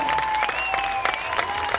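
Applause from the audience at the Etna Comics 2023 cosplay contest, a steady wash of clapping across the short clip, with a sustained tone and some crowd noise running through it.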